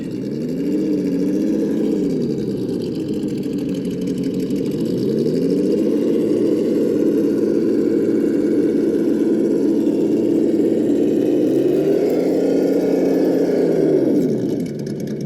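The small motor of a Traxxas TRX-4 High Trail RC truck with a Hobbywing Fusion SE hums steadily and loudly, with a slight exhaust tick, its pitch rising and falling as it speeds up and slows down, with no talking.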